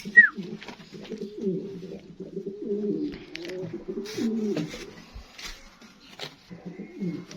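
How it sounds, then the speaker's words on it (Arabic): Homing pigeons coo in low, throaty rolling phrases, several overlapping calls close by, with a brief higher chirp at the start and quiet gaps between. "حمام مع بعض اهو."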